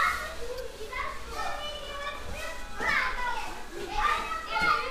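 Children play and shout at a distance, their high voices overlapping in excited bursts and calls over a few seconds, with no adult talking.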